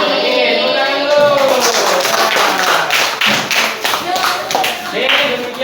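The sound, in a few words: class clapping after presentation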